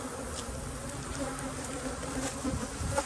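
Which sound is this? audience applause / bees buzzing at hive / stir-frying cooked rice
bees buzzing at hive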